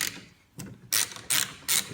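Ratchet clicks loosening T27 Torx screws on the hinge plate of a 2015 Polaris Sportsman 570 ATV, three short bursts of quick close clicking separated by brief pauses, with no talking.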